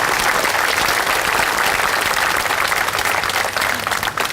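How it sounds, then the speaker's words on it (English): Crowd applause rings out at a Memorial Day parade in Marine City for a high school marching band, a dense, steady wash of many hands clapping at close range and holding loud throughout, with no voices heard. "Can we get another round of applause for the Marine City High School Mariner Marching Band"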